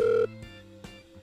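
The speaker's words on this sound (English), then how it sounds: "So, just punch in the numbers. And, oh, it's ringing." A telephone rings in the Minecraft video game, a bright electronic ring in short repeated bursts with brief gaps between them, clear and alone.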